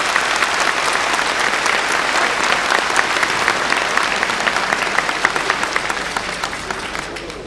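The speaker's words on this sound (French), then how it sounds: "le pasteur Clément Le Cossec, que je vous demande s'il vous plaît d'applaudir pour la circonstance." Congregation at a Gypsy Protestant worship service applauding, a dense, steady wash of many hands clapping that holds evenly for several seconds with no talk over it.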